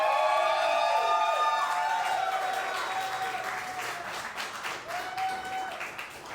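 Studio audience at a live comedy show applauding and cheering for a comedian, a dense wave of clapping with whoops that swells at first and slowly thins out while a musical tone plays underneath.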